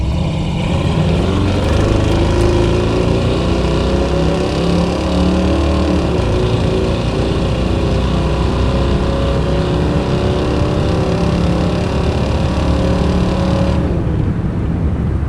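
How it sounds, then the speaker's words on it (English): A loud V8 exhaust from a 1991 Chevrolet 454 SS truck roars steadily as the engine accelerates, its pitch climbing, then cuts off abruptly near the end. "Just that exhaust note just makes for a really enjoyable driving experience."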